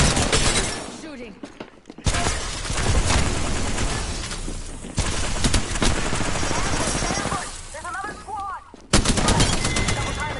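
Continuous video game gunfire, rapid automatic bursts and loud shots layered over a busy battle mix with brief dips, running throughout under occasional talk.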